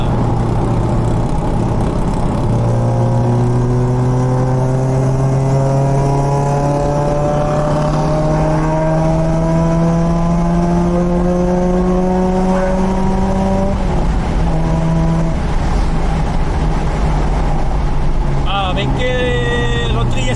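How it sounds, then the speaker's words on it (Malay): A Mazda RX8 rotary engine climbs steadily in pitch over several seconds, then drops back with quick throttle blips near the end; a loud, close, buzzing tone runs throughout the recording. "Satu-satunya kereta kita enjoy blipping. Sedap gila bunyi dia."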